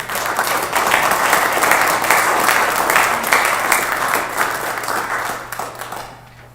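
Audience at a Santa Lucia Nordic music concert applauds the musicians, a full sustained round of clapping that holds steady, then tapers off and fades near the end, with a low hum underneath.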